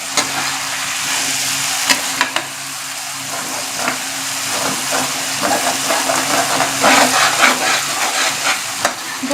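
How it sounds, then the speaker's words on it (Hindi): Masala for kofta curry frying in a pan, a steady close sizzle with scattered crackles and spoon scrapes of stirring throughout, fairly loud and continuous without any voices. "ये देखिए हमारा मसाला फ्राई हो रहा है"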